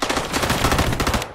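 Rapid automatic gunfire in Call of Duty Warzone, a loud, close burst of evenly spaced shots that fills the whole moment.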